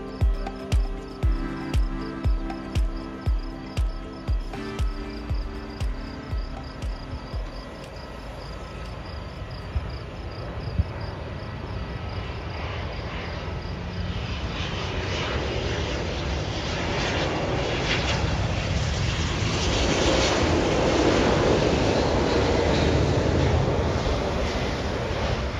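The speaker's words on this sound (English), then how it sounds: "I'm here just in time to catch a very interesting arrival, a Euro-Atlantic 777 operating for Azores Airlines inbound from Toronto." A Euro-Atlantic Boeing 777 flying for Azores Airlines arrives at Ponta Delgada airport, its broad engine roar building steadily and swelling louder toward the end, after a series of rhythmic mechanical clunks at the start, with no talking.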